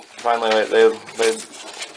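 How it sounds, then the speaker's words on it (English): A small roller pigeon coos in three or four close, throaty pulses with soft gaps between them, heard nearby in a loft. "it's a real small pigeon too. I like real small rollers"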